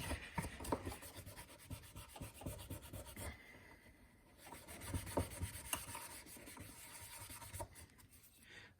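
Rubbing to polish a brake part from an airline galley cart, a quiet rasping friction sound in repeated back-and-forth strokes with a short pause midway.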